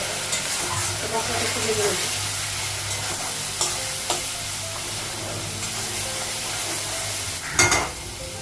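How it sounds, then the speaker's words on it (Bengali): Ground cumin and coriander powder frying in a pan with turmeric, a continuous close sizzle under steady stirring and scraping, with a louder spoon clatter near the end and no talk. "জিরা গুঁড়ো ধনের গুঁড়ো দিলাম একটু ভেজে নেব"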